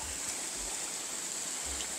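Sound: small river stream flowing

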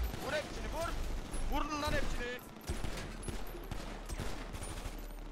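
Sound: gunfire in a roleplay video game

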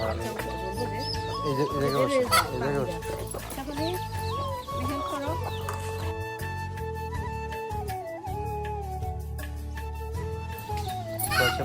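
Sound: desi hens and chicks clucking

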